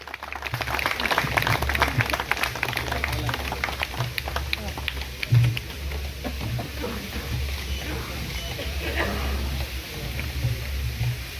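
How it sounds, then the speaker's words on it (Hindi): Audience applause at a ceremony honouring a guest, a dense wash of clapping running throughout under a steady low hum, with speech mixed in. "तालियों की कमी नहीं होनी चाहिए साथियों।"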